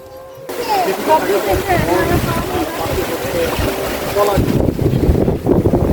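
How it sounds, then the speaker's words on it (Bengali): Strong wind with rain sweeping across a remote river island in Kurigram, a loud, continuous roar of gusts buffeting the microphone with a brief lull near the start, while voices speak underneath. "হঠাৎ করেই শুরু হয়ে যায় প্রবল বাতাসের সাথে বৃষ্টি"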